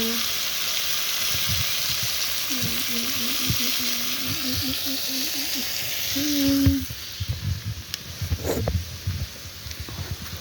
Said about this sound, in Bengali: দেখো উনার মাছটা রান্না করা হচ্ছে।